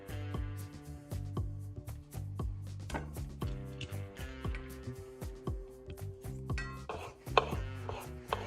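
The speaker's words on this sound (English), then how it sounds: "remove the skin and chop them into small pieces and set aside." Peeled tomatoes chopped into small pieces with a knife on a cutting board for pasta alla puttanesca, a fast run of crisp, even strokes going on throughout, close and quiet over soft background music.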